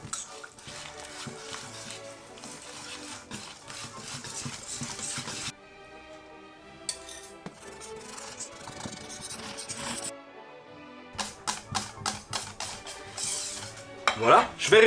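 A utensil stirs raspberry coulis into cake mixture in a bowl, with repeated scraping and clinking against the bowl in uneven bursts. Quiet pauses break them up, and the strokes grow louder and more rapid toward the end.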